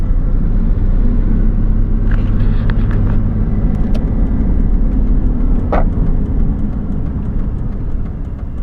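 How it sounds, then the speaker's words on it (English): A car drives along steadily, its low road rumble and engine noise loud and continuous throughout, with a few faint higher clicks and ticks inside the cabin. "Luckily, it's not that long of a drive."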